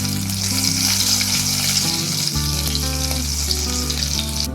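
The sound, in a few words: cumin and green chilli sizzling in hot coconut oil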